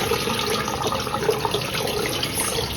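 Used brown tie-dye liquid that had sat about 48 hours being poured out, a steady, continuous splashing water flow heard up close and fairly loud, with no voices.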